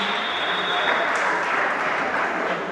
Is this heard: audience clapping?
yes